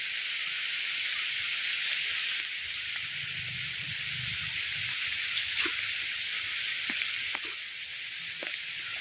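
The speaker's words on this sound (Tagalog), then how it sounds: "Malakas yung ulan." A steady, dense hiss of heavy rain pours down at high tide, with occasional sharper drops and patters standing out from the constant wash.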